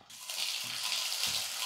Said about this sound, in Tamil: நெல்லெண்ணெய் பாரு எப்படி பொங்கி வருது பாரு.